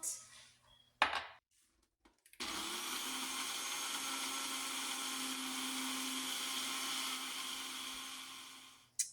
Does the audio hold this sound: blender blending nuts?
yes